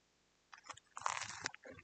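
Close, crisp crunching as someone bites and chews crunchy Italian-style snack food, a quick burst of loud crackly bites with no talk.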